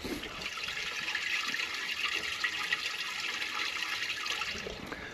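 Water rushes and gurgles steadily through an RV sewer hose at a dump station, a close, continuous watery wash that tapers slightly at the end, with no talk.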